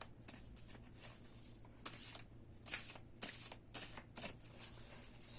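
Tarot cards are shuffled and pulled from the deck in a quiet room, making a series of soft papery riffles and slaps in irregular bursts, close by and with no voices.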